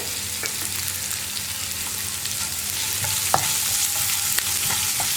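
Onions sauté in a hot pan for a beetroot masala dosa filling, giving a steady, close sizzle with occasional stirring scrapes and light clinks throughout.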